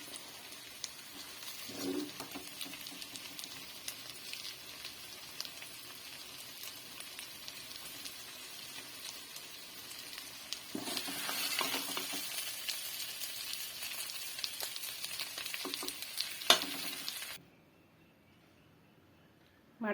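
Mutton liver, potato and pepper fry sizzling steadily in a pan, a continuous crackling hiss that swells louder midway, then cuts off abruptly near the end.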